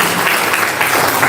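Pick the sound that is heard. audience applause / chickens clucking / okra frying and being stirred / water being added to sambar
audience applause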